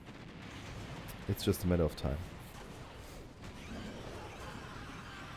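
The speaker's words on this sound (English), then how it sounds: "Huge explosion here." A burst of explosions in the Command & Conquer OpenRA strategy game, a rapid cluster of sharp booming blasts lasting under a second, with a commentator's voice talking over the battle.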